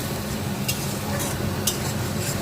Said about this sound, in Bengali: পেঁয়াজ বেরেস্তার তেলেতেই আমি পেঁয়াজ বাটাটা দিয়ে দিলাম প্রথমে